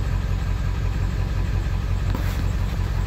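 A Ford 7.3 Powerstroke diesel engine with a rough idle fault runs at idle, giving a continuous, close, low throbbing rumble that stays steady throughout, with no voices.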